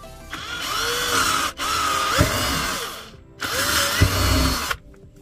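A power drill whirs in two short, close bursts, the motor pitch rising and dipping as it bores through a plastic bottle cap, with a pause between.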